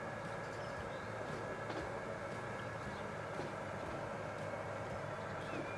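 A regional train runs in the video game Transport Fever 2, a faint, steady rumble with a continuous drone and light clicking of wheels on track, unbroken for several seconds.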